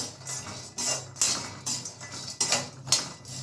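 Homemade cerelac mix stirred in a pan, a spoon scraping and tapping the metal in a steady series of close, distinct strokes about every half second, with no talk.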